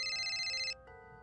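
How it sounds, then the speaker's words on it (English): A telephone rings with a bright electronic tone, one sustained burst that cuts off and then resumes more softly, alone with no talk. "Then her phone rang."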